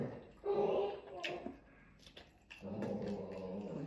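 A dog growls and barks at a pool maintenance worker in two sustained bursts with a short gap between, fairly close, mixed with some vocal noise.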